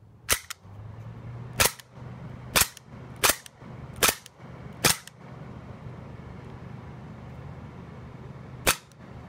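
Sharp, loud snaps from dry firing gas blowback airsoft pistols, a Walther P99 and an HK USP, with six cracks spaced about a second apart, a long pause, then one more.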